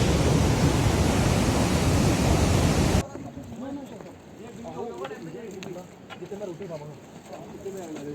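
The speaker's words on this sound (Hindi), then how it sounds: "इतना ज़्यादा शोर आ रहा है, ये सारा शोर इस पानी का है।" Loud, dense rushing of fast-flowing mountain water near the trail to Kedarnath, a roar that fills everything for three seconds before cutting to a quieter scene with voices over softer water noise.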